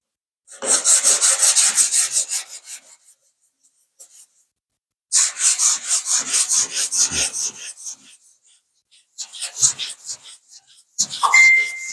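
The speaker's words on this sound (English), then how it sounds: "We'll continue sanding." A sanding block rasps back and forth over 2K primer on car bodywork in bursts of rhythmic strokes, loud and close, separated by short pauses.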